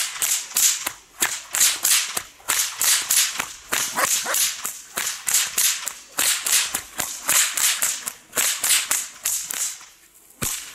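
A bullwhip cracked over and over in a classic figure-eight pattern, sharp loud snaps arriving in a quick steady rhythm for the whole stretch, with no talking.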